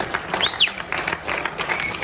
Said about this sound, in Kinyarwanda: Reka tumukomera amashyi menshi cyane.